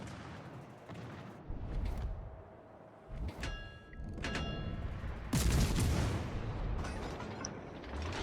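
Tank cannon fire in a tank battle video game: several heavy booming shots and blasts, well spaced, with rumbling engine noise and clanks between them, the strongest near the end.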